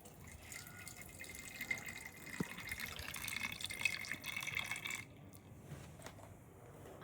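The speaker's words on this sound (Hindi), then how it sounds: "अब बैटरी का पानी पड़ जाएगा" Water trickles and drips steadily into a car battery in a garage for about five seconds, then stops, leaving quiet background.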